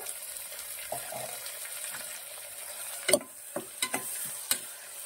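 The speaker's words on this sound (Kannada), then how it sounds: "ಟೊಮೆಟೊ ಹಾಕೊಳ್ತೀನಿ. ಇದು ಕೂಡ ಚೆನ್ನಾಗಿ ಎಣ್ಣೆಲಿ ಫ್ರೈ ಆಗಬೇಕು." Tomatoes frying in oil in a pan for a dried-prawn dal curry, giving a steady soft sizzle with a few sharp clinks and knocks of a spoon against the pan, close and alone without talk.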